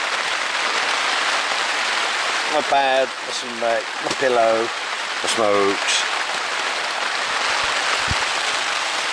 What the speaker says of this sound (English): Just so I put it on so you can hear the rain.